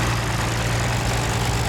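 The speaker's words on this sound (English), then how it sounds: "Next, 1959 International 560 Diesel, owned by Denny Hawk, driven by Denny Hawk." A 1959 International 560 diesel tractor engine idles steadily at an antique tractor and plow event, a low, constant rumble heard at moderate distance with no talking.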